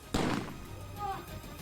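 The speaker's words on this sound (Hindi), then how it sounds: "उन्होंने दुश्मन पर ताबड़तोड़ गोलियां बरसाने का अभ्यास किया" Gunfire from soldiers' firing practice, a single sharp burst at the start followed by a ragged, echoing tail, with no other shots after it.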